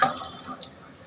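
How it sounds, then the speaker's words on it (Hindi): Water splashes on a face, heard as a few quick close splashes and drips at a sink, followed by quiet trickling. "ढंग से पानी मारो भाई"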